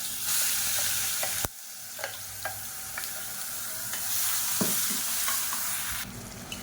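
Onions sauté in a pan for a Tamil side-dish recipe, giving a steady, bright sizzle broken by brief clacks of stirring and a short pause midway.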